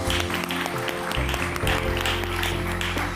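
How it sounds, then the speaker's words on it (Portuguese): A television studio audience applauds as a cardiologist guest joins a daytime talk show, brief clapping mixed with studio music and background sound, moderately loud throughout. "Um grande aplauso."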